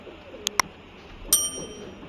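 Teddy pigeons at a Lahore loft give a soft low coo under a few sharp chirps and a brief ringing tone, faint and close, with no talk.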